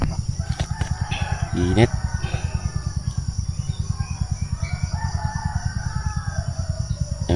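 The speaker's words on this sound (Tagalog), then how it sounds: "Parinig mo talaga yung mga manok pag sa ganitong lugar lang." Roosters crowing near a tent at a rural campsite, a couple of distinct crows sounding over a dense, steady pulsing chorus of crickets or insects, with a voice murmuring softly now and then.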